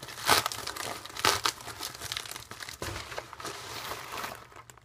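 A plastic bag crinkles and crumples close by during the unboxing of Wiggles Wiggly Stampers toys, with several sharp rustling bursts and quieter handling noise between them.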